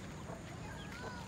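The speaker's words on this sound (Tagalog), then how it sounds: "Ang galing ng manok nasa taas." A chicken perched up high clucks briefly in the background of an outdoor scene, a short, faint run of calls over a low ambient hum.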